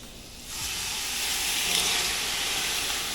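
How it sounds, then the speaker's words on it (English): A kettle of water heats toward a boil on a home stove, giving a loud, steady hiss that swells near the start and holds constant, close and without any voices. "waiting for hot water in the kettle to boil"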